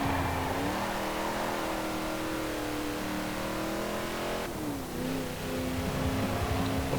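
A modified car's engine in Forza Horizon 4 revs steadily and loudly through a racing lap, with a brief dip in pitch near the middle as it shifts, then climbs again.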